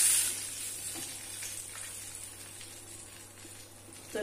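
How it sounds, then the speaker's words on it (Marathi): Hot tempering of mustard seeds, curry leaves and asafoetida in oil meets karonda chutney with a soft, steady sizzle, close and fairly quiet, fading slightly before a brief stir at the end. "तर आता ही फोडणी मी चटणीमध्ये मिक्स करते."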